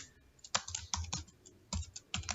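Typing on a computer keyboard: quiet, irregular clusters of close keystrokes clacking in quick runs with brief pauses.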